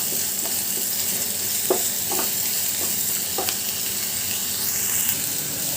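Steady sizzling and crackling of onions frying in a pan for a baby corn pepper fry, with occasional scraping stirs and small clinks, and a voice speaking Tamil.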